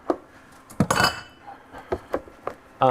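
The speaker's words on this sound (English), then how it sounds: "We mix our riced potatoes with our pâte choux." Riced potatoes being mixed into pâte à choux for fancy cheesy tater tots, heard as scattered utensil clinks and scrapes against a bowl, with one louder clatter near the start, close and with no talking.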